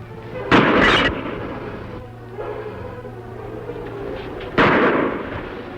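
Two pistol shots from an old Western radio drama ring out as sharp, loud cracks several seconds apart, with a quieter stretch of background between them.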